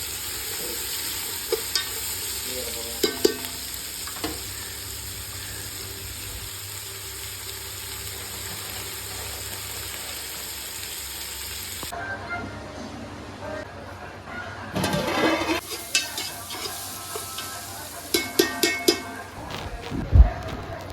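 Chicken sukka being stirred and fried in a pan, with sizzling and scraping of a spoon in the first half, then louder clatter and stirring bursts as rain patters outdoors; people talk nearby.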